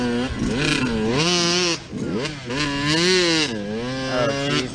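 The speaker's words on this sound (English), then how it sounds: "Just kick it until you hear a little bit of a sputter and then give it gas." A flooded dirt bike engine sputters and revs unevenly in short bursts as it is kick-started and catches, heard up close and loud.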